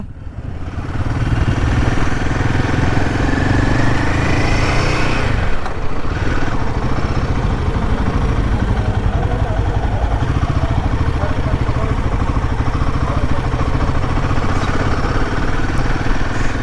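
A brand-new motorcycle runs on its delivery day with a loud, steady idle and a mechanical clatter, close by and continuous throughout. There are brief rises in engine pitch, and people talk indistinctly in the background.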